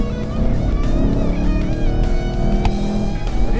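Aston Martin Vantage with 436 hp pulling hard on the Ferté Gaucher race circuit, a loud steady engine drone with rising harmonics and a short gear-change blip near the end, close and continuous.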